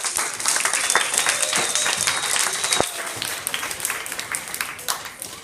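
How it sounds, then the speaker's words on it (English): A roomful of people clapping for themselves, brisk and continuous applause with individual claps standing out near the front, gradually thinning toward the end. "give yourself a round of applause"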